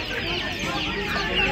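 Black Burma chickens at a poultry market give dense, overlapping clucks close by amid steady background bustle.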